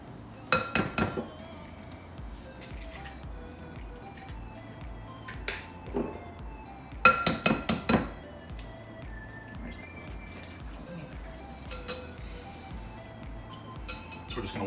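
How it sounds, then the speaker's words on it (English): Eggs and super fine almond flour whisked into lemon curd in a bowl, heard as short bursts of rapid, close metallic clicking and clinking separated by quieter pauses, with people talking at times. "So we're just gonna whisk that all together?"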